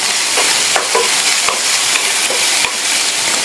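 Sliced onions sautéing in a hot pan for a Tamil okra side dish, a steady loud sizzle with scraping stir strokes now and then, close up and with no voices.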